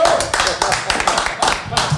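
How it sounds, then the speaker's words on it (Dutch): Live audience applause at a Dutch comedy podcast show, a steady patter of clapping hands with short swells, mixed with talk and crowd noise throughout. "Mag ik een warm applaus voor Lucinda Sadok?"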